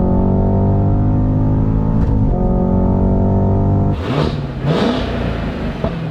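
A 668 hp Cadillac CT5-V Blackwing with a manual gearbox and a large front V8 holds a steady loud idle hum, then blips its throttle in two sharp revs toward the end.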